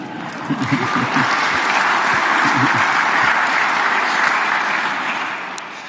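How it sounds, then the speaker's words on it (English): A crowd applauds during a televised national address by South African DA leader John Steenhuisen, a loud, sustained wash of clapping lasting about six seconds with a few voices calling out near the start. "You are allowed to clap."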